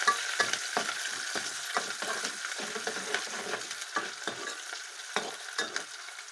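Goat mutton curry with bay leaf being stirred in a pan, a steady run of close spoon scrapes and clinks over a continuous loud frying sizzle, with no talk.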